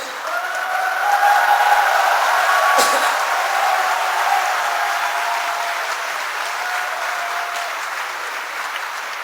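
A crowd at Roh Moo-hyun's presidential campaign launch speech applauds steadily and fairly loudly, with a thin high whining tone sustained over the clapping for several seconds.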